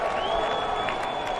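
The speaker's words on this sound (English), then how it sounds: "And the crowd goes wild." Surf contest crowd at a Rio pro event cheering and applauding on the beach, a steady broad wash of distant cheers with faint voices mixed in, sustained throughout.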